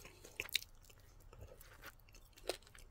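Faint close chewing of crispy sweet chipotle chicken wings, with a few sharp crunches standing out against quiet background noise.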